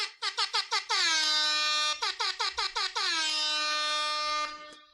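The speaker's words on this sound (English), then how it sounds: "Where's the air horn?" A blaring air horn blasts in a rapid rhythmic pattern of short honks followed by long sustained tones, loud and repeated twice.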